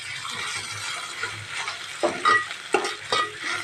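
Onion frying with ginger garlic paste in a pan for a soybean curry, a soft steady sizzle overlaid by a few sharp scraping stirs of a spoon in the second half, close and moderately quiet.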